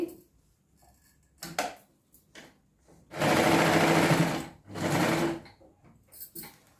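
A sewing machine stitches a kameez in two loud bursts of rapid whirring, each about a second and a half long, set between quieter clicks and handling noises of the fabric.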